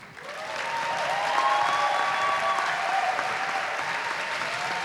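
An audience applauds Helena Teodoro at a literary panel, a dense, steady wash of clapping that swells quickly and holds strong for several seconds with no talk over it.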